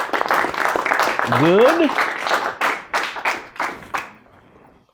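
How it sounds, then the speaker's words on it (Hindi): Clapping from an audience at a stage mind-reading show. A rustling burst of applause fades into several spaced single claps that thin out toward the end, while a voice speaks briefly over the start. "एक बार जोरदार तालियां अपने लिए बजाइए आप लोग।"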